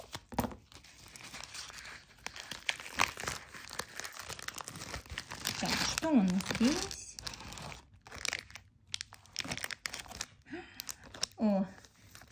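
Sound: opening a crinkly bubble mailer package

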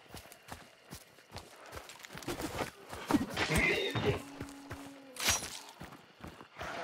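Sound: horse neighing and hooves in video game Hunt Showdown

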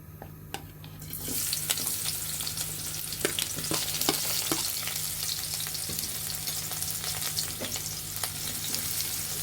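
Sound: spice paste frying with cumin in pan

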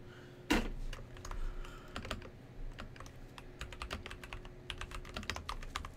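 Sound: typing on a computer keyboard

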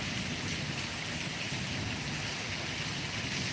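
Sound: heavy torrential rain

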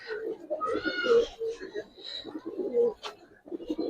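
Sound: Giribaz pigeons cooing

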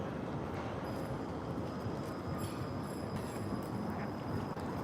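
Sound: small train passing in Russia

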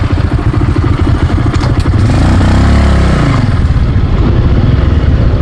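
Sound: Honda motorcycle engine driving

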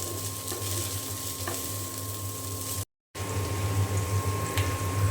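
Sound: khichuri being fried and reheated in a pan

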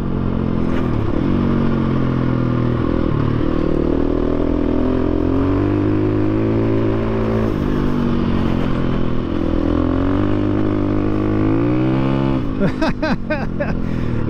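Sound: KTM 350 EXC-F dual sport motorcycle riding on dirt road

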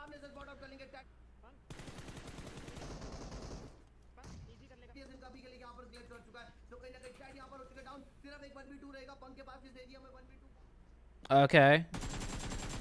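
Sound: gunfire in BGMI video game

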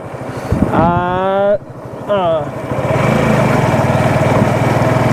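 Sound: motorbike being ridden

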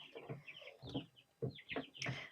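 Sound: young chicks in a brooder

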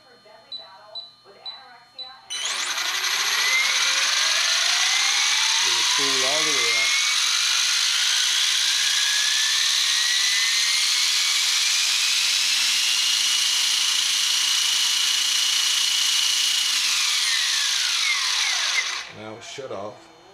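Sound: RC helicopter spooling up

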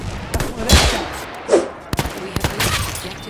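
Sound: WWI revolver gunshots from a video game

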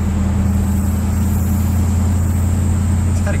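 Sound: classic car engine and exhaust

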